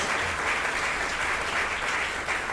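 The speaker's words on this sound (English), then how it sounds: "Give them a big round of applause." A crowd at a fundraising auction claps steadily in sustained applause, a dense even patter that holds at the same level throughout.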